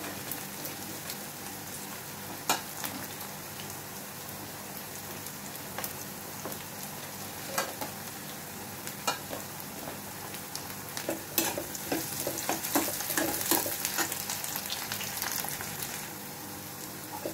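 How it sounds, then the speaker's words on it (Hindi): Onions fry in a pan for kadhi with a continuous hissing sizzle. Scraping, clattering stirs are heard now and then, growing busier toward the end. "प्याज मेरी भुन चुकी है"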